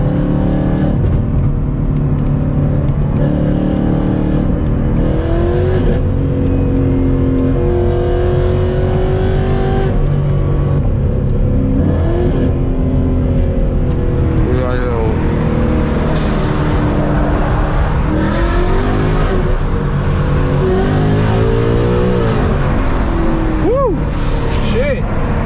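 A Ford Mustang GT fitted with Texas Speed longtube headers accelerates hard in a series of loud pulls, its engine note rising through the revs and dropping at each gear change, heard from inside the car.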